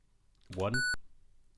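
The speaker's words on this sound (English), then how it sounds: "Okay, big old beep." A short electronic beep from a ZX Spectrum video game, a single steady pure tone lasting about a quarter second, right after a brief burst of voice.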